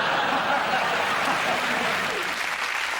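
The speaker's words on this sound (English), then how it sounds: "the crowd are giving him a standing ovation" Studio audience on a comedy panel show gives a standing ovation, with dense, steady applause and a few chuckles filling the room evenly from start to finish.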